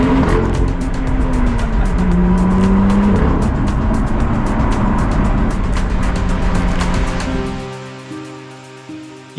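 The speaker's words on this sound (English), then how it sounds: "we're jumping back in the car and we are driving to another location" A car drives along a road in the Scottish Highlands, its engine and tyre noise steady and close for most of the stretch before fading as it slows and quietens.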